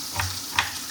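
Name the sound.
shallots frying and being stirred in oil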